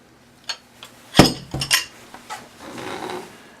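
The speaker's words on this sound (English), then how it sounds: "To remove the pump, you simply rotate the screw ring counterclockwise and detach the" A pump is twisted free of a cast iron body by turning its screw ring, giving a few sharp metallic clinks and clanks, a loud knock near the middle, then a short rough scraping rattle.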